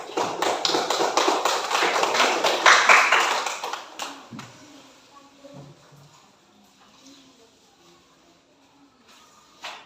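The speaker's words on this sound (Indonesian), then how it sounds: "Beri tepuk tangan untuk mereka." Sixth-grade primary school pupils in an Indonesian classroom clapping for their classmates, a burst of brisk, uneven applause from many small hands lasting about four seconds, then fading into quiet room noise with a few shuffles.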